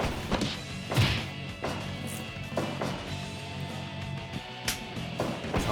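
A series of blows in a backyard wrestling tag team match in a home ring, heavy thwacks and thuds striking at irregular intervals over a muffled background.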